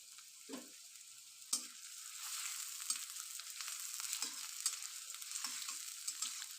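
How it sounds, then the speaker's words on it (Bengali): Chow mein noodles frying lightly in a pan for egg chow mein in a home kitchen, a soft steady sizzle with occasional stirring scrapes and taps, close and fairly quiet. "এটাকে একটু হালকা করে ভেজে নিতে হবে।"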